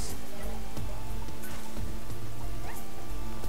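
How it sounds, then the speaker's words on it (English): Foxes in the Spiral Knights video game bark repeatedly in short yipping bursts, mixed with game sound effects and a steady low background hum. "I don't even think these foxes can do any damage. They just kind of bark at you"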